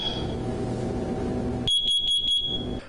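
A carbon monoxide detector sounds its test signal, a few sharp, loud high-pitched beeps in quick succession following a stretch of steady background noise.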